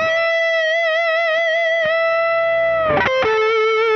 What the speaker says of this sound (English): If you brought it up and just did vibrato, but kept it up, it sounds like this.